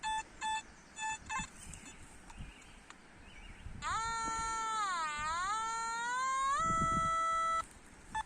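Metal detector signalling over modern coins buried near a riverbank, a series of short electronic beeps followed by a long, wavering warbled tone that bends in pitch and holds for several seconds before cutting off.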